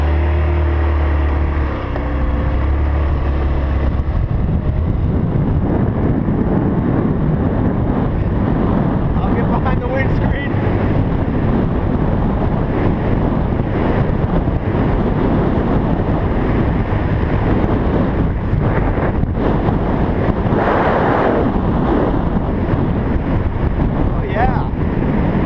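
A Peace Sports Knight 150 scooter ridden at speed down a street, a steady engine drone buried under heavy, continuous wind roar across the microphone throughout.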